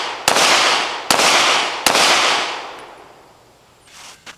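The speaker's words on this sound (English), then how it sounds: "fourth is to punch straight out and fire" A handgun fires three sharp, loud shots at close range, spaced under a second apart, each followed by a long fading echo as if outdoors, then a softer thud near the end.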